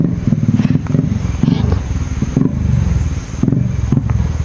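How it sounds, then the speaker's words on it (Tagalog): A Honda XRM motorcycle arrives nearby with its engine putting loudly and continuously, throbbing with uneven revs and some clatter, and voices are faintly mixed in. "Sakay sila ng isang XRM na motor mga idol."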